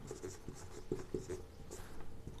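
A pen writes a list by hand on paper, making close, soft scratching strokes with small taps in an irregular rhythm and no talk.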